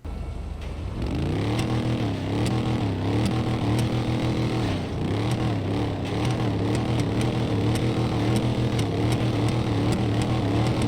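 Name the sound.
monster truck engine exhaust in the video game GTA 5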